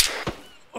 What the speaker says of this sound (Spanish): ¿Alguien ve quién dispara?